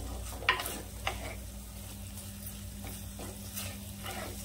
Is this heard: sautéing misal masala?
yes